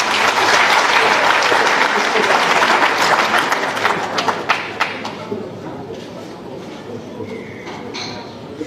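An audience at a political gathering applauding itself, dense clapping loud at first and then thinning out after a few seconds into scattered claps and a quieter room with faint voices.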